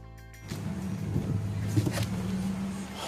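A vehicle backing up with a trailer in muddy ground at a carwash, a steady low engine hum that rises slightly, close and continuous, with no speech.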